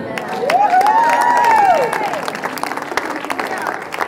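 Church congregation at a healing service clapping and cheering, with a rising and falling voice or shout over the crowd, then scattered applause and voices continuing underneath.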